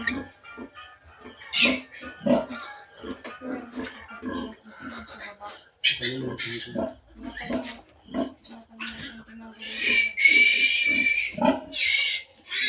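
A pig grunts and squeals in irregular bursts, some sharp and loud, with people talking nearby between the calls.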